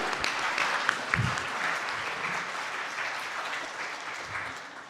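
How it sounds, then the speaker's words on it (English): Audience applause after a community hub presentation from Dawson and Old Crow, a steady wash of clapping from a room of listeners with a whoop early on, fairly even and moderately loud throughout. "Big round of applause."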